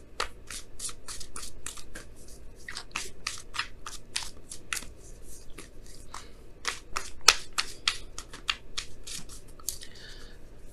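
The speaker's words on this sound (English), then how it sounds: "let me go ahead and pull your Wisdom of the Oracle card for the week" Oracle cards being shuffled by hand for a weekly love tarot reading, a long run of quick, crisp riffling snaps and slaps at close range, with no talking.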